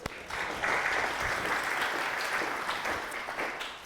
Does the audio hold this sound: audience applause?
yes